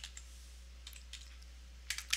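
Sparse keystrokes on a computer keyboard while entering a name at a program prompt, a few isolated quiet clicks followed by a brisker burst of taps near the end, close and alone over faint background hum.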